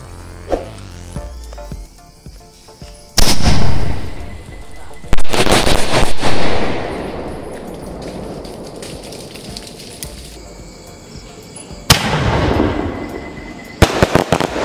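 A thick medium sky shot firework with 12 small cells and a palm tree effect goes off in several loud sharp bursts, each followed by crackling and hissing decay, with quieter pauses between shots outdoors.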